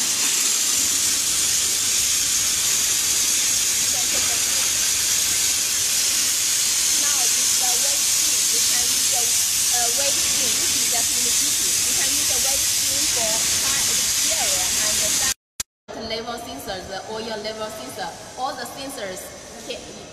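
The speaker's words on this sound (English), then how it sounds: "Now it's the summer day, but we can see the steam, so the pressure is very powerful." A GOCLEAN steam cleaner running at 16 bar pressure blasts a loud, continuous hiss of steam for about fifteen seconds, then cuts off, and a person starts talking.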